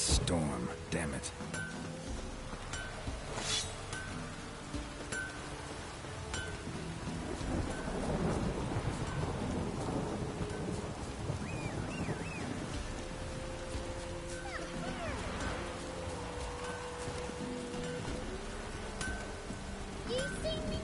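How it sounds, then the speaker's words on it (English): A video game thunderstorm plays, with steady rain and rolling thunder swelling and fading across the stretch, mixed with game sounds and talking. "A storm, damn it."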